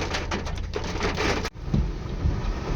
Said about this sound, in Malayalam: മഴ ഉണ്ട് കേട്ടോ, നല്ല മഴയുണ്ട്